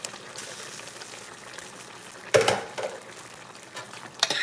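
Water is poured into a pot of stew fish to make gravy, giving a steady low bubbling and sloshing hiss with louder splashy bursts near the middle and the end.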